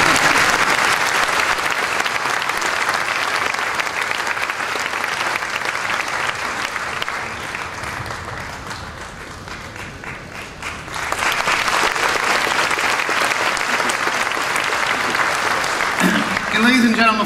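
A large audience applauds at the opening ceremony of the Euro Attractions Show trade fair in Amsterdam, loud dense clapping that dips briefly midway, then swells again before fading near the end.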